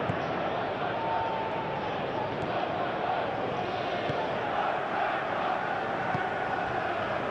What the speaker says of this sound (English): Well, the crowd clearly like what they just saw.